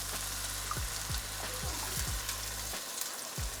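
Garlic frying in a pan for a pork loin cream sauce, a soft steady sizzle with several low thumps and scrapes of a utensil against the pan.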